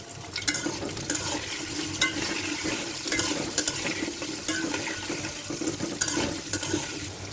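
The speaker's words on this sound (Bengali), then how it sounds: "প্রথমে আলুটা ভেজে নিব। হালকা একটু লবণ আর একটু হলুদ দিয়ে ভেজে নিব।" Potatoes frying with a little salt and turmeric in a home kitchen, a steady hiss and sizzle broken by periodic scraping and stirring strokes, close and moderately loud with no talking.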